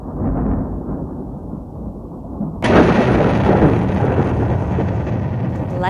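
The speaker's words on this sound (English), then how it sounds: "Lightning has struck nearby, resulting in a shutdown of the production line." Thunder from a nearby lightning strike rumbles low, then breaks into a sudden loud crack that rolls on heavily for several seconds.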